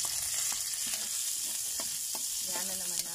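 Sliced onions sizzle with garlic in a hot oiled pan, a steady loud frying hiss broken by several light spatula scrapes and stirring knocks, with no one talking.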